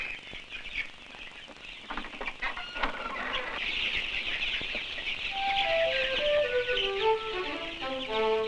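Chickens on a farm cluck and squawk in a busy, overlapping chorus with a brief flutter of wings, fairly close and growing louder toward the end, with no talk over it.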